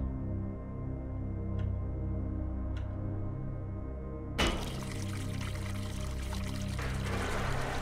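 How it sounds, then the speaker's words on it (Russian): In the video game The Uncertain, sewage from a broken pipe suddenly bursts into a loud, steady gush halfway through, over a constant low mechanical hum. "Это очень похоже на канализацию. Ну и теперь все говно растекается по первому этажу."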